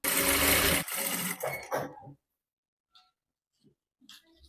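A sewing machine stitches a blouse neckline in a loud, dense run of about two seconds, then stops, leaving near silence with a few faint clicks and handling noises.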